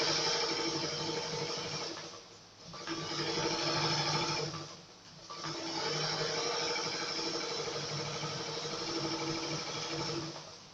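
A sewing machine stitches fabric along a curved line in a garment-construction lesson, a steady close mechanical whir that pauses briefly twice as the fabric is turned, with no talking.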